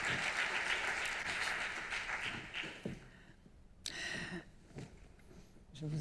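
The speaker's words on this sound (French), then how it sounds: "Je vous prie de bien vouloir les applaudir." An audience applauds witnesses invited onstage at a mock trial, a soft, steady wash of many hands clapping that drops away midway, leaving scattered claps and a faint voice.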